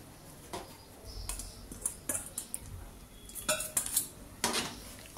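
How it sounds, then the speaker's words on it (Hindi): Rice paste stirred slowly in a pot, giving faint, irregular clinks and scrapes of a utensil against metal, quiet and close with brief pauses between strokes. "धीरे धीरे इसे चलाते रहेंगे"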